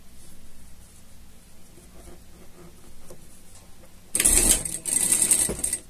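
Near the end a sewing machine topstitches a pocket on a pet harness in two close, loud runs of stitching, following a stretch of quiet handling noise.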